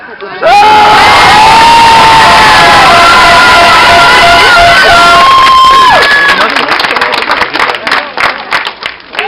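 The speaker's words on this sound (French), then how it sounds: "Applaudissements mérités, d'autant qu'ils sont dans un conflit que vous savez." Rally crowd of healthcare workers and supporters cheering and applauding loudly, with shouts and whistles over continuous clapping that breaks into more scattered claps near the end.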